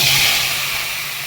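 Capsicum tossed into hot oil with cardamom, cinnamon, cumin seeds and bay leaves gives a strong, continuous close sizzle with a steady bright hiss and no voices.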